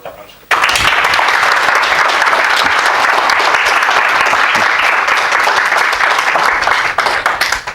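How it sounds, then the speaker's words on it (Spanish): A full audience breaks into loud, sustained applause at a talk, starting abruptly and holding steady and dense throughout with a lively crowd texture. "pido para él, por favor, un fuerte aplauso"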